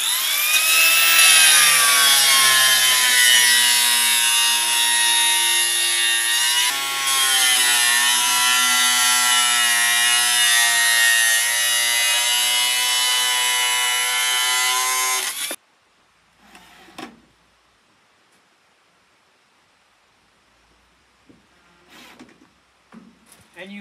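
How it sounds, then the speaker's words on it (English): An angle grinder cutting an old drum-kit shell used as a form for a thin round cement planter, a loud continuous high whine with one brief dip, lasting about fifteen seconds before cutting off into quiet handling. "So what I do is I take a grinder."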